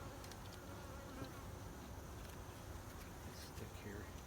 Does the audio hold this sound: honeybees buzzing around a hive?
yes